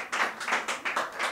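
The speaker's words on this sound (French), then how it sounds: "on applaudit très fort pour lui" An audience at a ceremony where a member receives a certificate before a committee claps in several quick bursts, a short, close, steady patter of applause.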